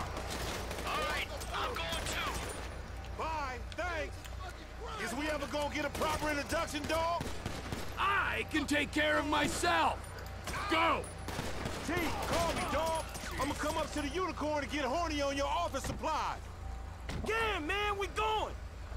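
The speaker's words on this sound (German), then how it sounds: "Das waren eventuell ein paar Schüsse mehr als nötig" Bursts of video game gunfire from GTA V during a chase mission, with rapid shots layered under near-continuous talking voices and a steady low engine-like hum.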